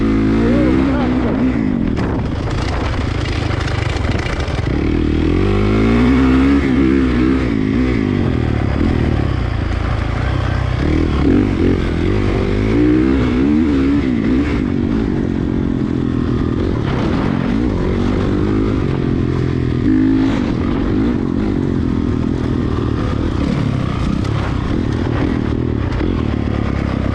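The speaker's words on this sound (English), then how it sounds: "As you could hear, the sound of my bike. We're going a little faster." A dirt bike engine drones close and steady while riding on a track, pitch rising and falling as the rider speeds up, with someone talking over it.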